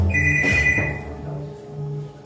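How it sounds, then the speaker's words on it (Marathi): A telephone rings once during a live Marathi stage play at a village fair. The short electronic tone is followed by a fading resonant ring against a room hum. "तुझा फोन."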